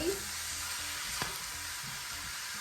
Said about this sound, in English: Give this a mix. And allow this to fry